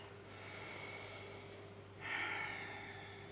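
A close, faint nasal rinse with a neti pot: soft breathy airflow through the nose, then a short, stronger snort-like exhale near the end.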